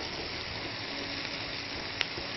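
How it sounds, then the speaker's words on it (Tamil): Bell peppers fry in a pan with a steady, even sizzle throughout, moderately loud and close, with one brief sharp crackle near the end and no voices. "ஸோ நம்ம பெல் பெப்பர்ஸ் பார்த்திங்கன்னா நல்லா ஃப்ரை ஆகிட்டுருக்கு"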